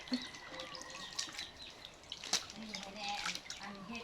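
Bamboo shoots being washed in water, with splashing, dripping and trickling sounds close by and a voice speaking over parts of it.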